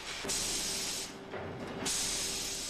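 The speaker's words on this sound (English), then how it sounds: "Next comes a spray-on expanding foam, lightweight with a bark-like texture." Expanding foam hisses out of a spray can onto a tree model in two close, steady bursts separated by a short pause.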